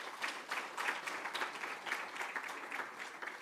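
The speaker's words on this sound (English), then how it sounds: "I think they require a round of applause." A university lecture audience at the Unisa Founders Lecture applauds steadily, a soft, even wash of many hands clapping at some distance with no voices standing out.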